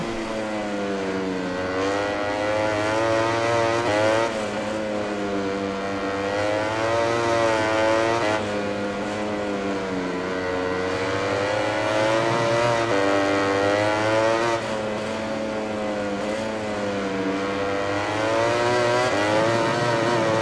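Ducati GP20 MotoGP bike engine in the MotoGP 20 racing game screams through repeated rising and falling revs as it accelerates and shifts, loud and continuous, with no talk.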